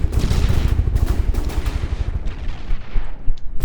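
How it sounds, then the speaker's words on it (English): Sustained, loud machine gun fire from aircraft guns in the From The Depths video game, a dense rapid rattle of overlapping bursts with no pauses, set against heavy low rumble throughout. "Right here, all the bullets are coming in."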